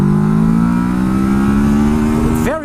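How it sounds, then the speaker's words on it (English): A Kawasaki Versys 650 motorcycle engine revs loud and close, a smooth, steady rising drone that climbs gradually, then drops in a quick blip at the end. "Engine's absolutely awesome. Very smooth, very loud, enthusiastic sound"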